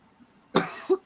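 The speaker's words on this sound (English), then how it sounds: "Cough, cough, cough, cough, cough, cough." One short, sharp cough followed by a smaller second burst, close and fairly loud against a quiet room.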